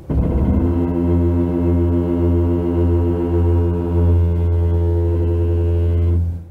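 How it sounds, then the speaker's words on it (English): Brakes on a Kia EV6 groan while the car creeps along in traffic, a loud, sustained low tonal moan with rich harmonics, steady for several seconds before fading out, with no one speaking. "this car makes a weird groaning sound from its brakes"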